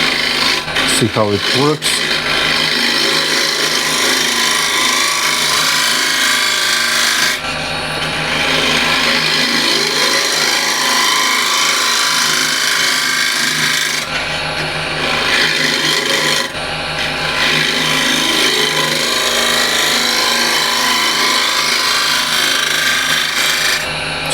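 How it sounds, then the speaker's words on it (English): A hand scraper held at 80 degrees is dragged across a surface to true it. Long, loud, continuous raspy scraping runs in steady sweeps with brief breaks between passes, and a voice speaks briefly near the start. "So let's go first with 80 degrees scraper"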